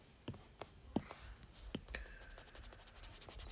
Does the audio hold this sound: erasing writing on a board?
yes